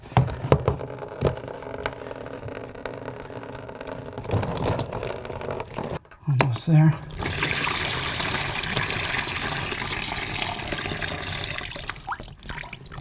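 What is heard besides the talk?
water draining out of a toilet tank into a pan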